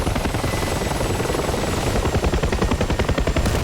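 Helicopter in a DCS flight-simulator dogfight over Chad, loud pulsing rotor chop over a steady engine drone, the beat growing more distinct toward the end, heard alone without talk.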